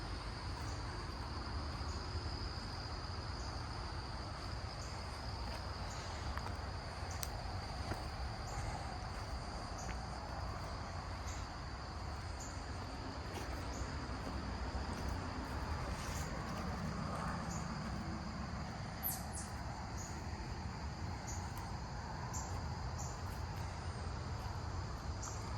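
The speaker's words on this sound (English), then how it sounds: "Yo, these bugs are going crazy, bro." Crickets and other insects drone steadily in a forest during an early morning walk, a dense continuous chirring bed with high whining tones and occasional closer buzzes, no talk over it.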